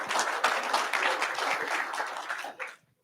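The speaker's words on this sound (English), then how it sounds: "How about giving Laney a round of applause?" A room at a county school board meeting breaks into applause for a student, a dense burst of many hands clapping that carries steadily for over two seconds, then quickly fades out into quiet.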